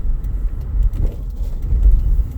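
A car drives through the business district of Newark, New Jersey, giving a loud, steady low rumble of engine and road noise from inside the cabin with small bumps along the way.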